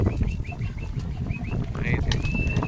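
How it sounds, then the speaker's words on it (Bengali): Pigeons bathe at a home loft, with short chirpy calls and a whistling note over a busy low rustle and splashing of wings, heard close and fairly loud. "মাশাআল্লাহ কবুতরগুলো গোসল শুরু করেছে।"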